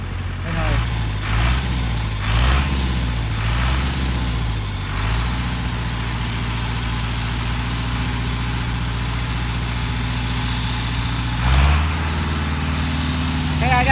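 Ford 6600 or Belarus 892 tractor engine running while hauling cassava on a rough road, a loud low diesel rumble with a steady throb, rising briefly near the end, with voices talking over it early on.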